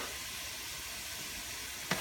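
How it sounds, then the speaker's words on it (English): Soup simmering in a pot gives off a steady, even sizzle that runs the whole time, with a brief louder hiss of steam or stirring near the end. "I'm just going to let this cook for a minute"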